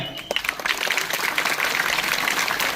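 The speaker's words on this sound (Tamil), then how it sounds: "நல்ல கை தட்டலாமா?" Audience at an awareness rally event clapping together, a few scattered claps quickly swelling into sustained, fairly loud applause.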